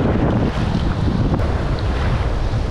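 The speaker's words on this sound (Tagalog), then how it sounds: "Grabe, lakas ang hangin, lakas ang alon." Strong wind roars steadily against the microphone at sea during a storm while fishing, with broadband buffeting and rushing waves filling the whole clip, loud and continuous without talk.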